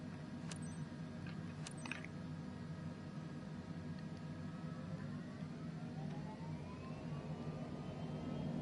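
Airliner jet engines spool up for takeoff in Flight Simulator, a steady low roar with a rising whine climbing in pitch, plus a couple of brief clicks early on.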